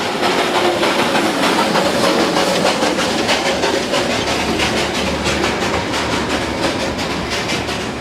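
Darjeeling toy train passing close beside shops, loud and near, with rhythmic clickety-clack of wheels on rail joints over a continuous rumble and hiss, no voices.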